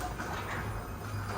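Residential garage door being lowered by its electric opener while the button is held, a steady low mechanical rumble and drone running throughout at moderate level, no talk.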